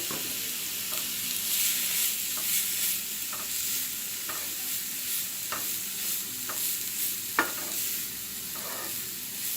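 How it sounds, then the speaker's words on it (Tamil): Grated carrot sautés in ghee for carrot halwa, giving a continuous close sizzle broken by regular spoon scrapes against the pan roughly every second. "திருகி வச்சுருக்க கேரட் ஃபுல்லாக போட்டு நல்லா நெய்யிலேயே வதக்கணும்"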